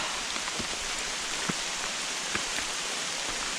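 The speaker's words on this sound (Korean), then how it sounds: "비가 많이 오고 있는데," Heavy rain drums steadily on a Hilleberg solo tent in still air, a dense even hiss of drops with a few louder individual plops standing out, heard from inside and close.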